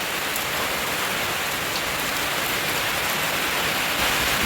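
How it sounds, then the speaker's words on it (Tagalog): Steady, heavy rain pours down outdoors during a nighttime power outage in the Philippines, a dense, continuous hiss of drops on surfaces, loud and unbroken throughout. "Ang ulan guys."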